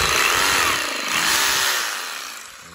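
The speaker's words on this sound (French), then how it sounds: "je vais perforer un trou avec une mèche de 5" Power drill boring a hole with a 5 mm bit into wood while building a wooden shed: a loud, close, continuous whirring drone that sags briefly and fades toward the end, no talking.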